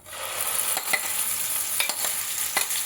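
Pointed gourd peel paste frying in hot mustard oil in a kadai, a close steady sizzle broken by a few sharp spatula scrapes, with no voices.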